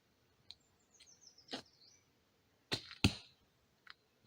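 Arrows loosed from a 70 lb tent pole bundle bow in a quiet workshop give a few sharp, close snaps and thwacks, with faint clicks and a chirpy squeak scattered through near silence.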